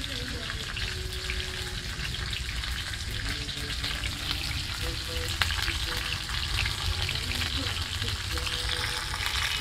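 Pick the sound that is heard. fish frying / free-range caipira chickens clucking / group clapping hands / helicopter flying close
fish frying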